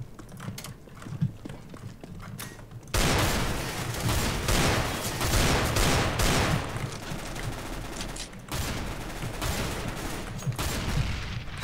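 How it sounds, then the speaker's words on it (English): Gunfire in Counter-Strike: Global Offensive, a dense loud stretch of rapid shots bursting in after quieter clicks and movement, with a brief lull before firing resumes. "Stop shooting me!"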